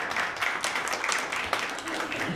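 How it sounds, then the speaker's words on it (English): A comedy club audience claps in a scattered burst after being asked who is in their twenties, a steady patter of hands filling the room at moderate distance, uneven and lively throughout. "clap if you in your 20s"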